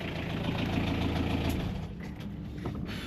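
A boat engine, on the water in Panama, runs with a steady low chugging idle close by that eases off partway through, leaving a softer hum with faint clicks and no speech.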